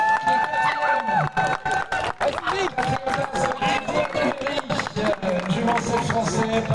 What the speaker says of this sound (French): Allez, vous pouvez déjà lui offrir vos applaudissements